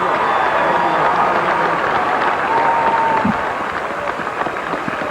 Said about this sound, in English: how about a round of applause for Matthew Gossett?